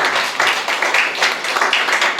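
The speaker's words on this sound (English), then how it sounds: "Give them a big round of applause." At a live magic show, the audience claps in a dense, continuous burst of applause. It sounds close and fairly loud, with an uneven patter throughout.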